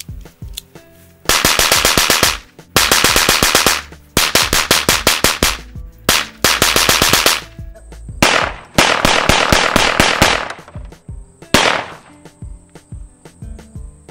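Rapid bursts of semi-automatic pistol shots fired with Pyrodex black powder loads, loud and close, in several strings of fast sharp cracks separated by short pauses, with a few single shots near the end.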